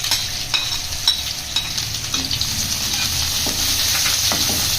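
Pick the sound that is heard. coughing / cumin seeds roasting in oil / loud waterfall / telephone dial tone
cumin seeds roasting in oil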